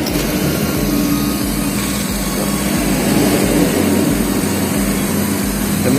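A rewound submersible water pump runs on test at about 2850 RPM, giving a steady, loud motor hum with a low rumble and a constant high whine that carries on without a break.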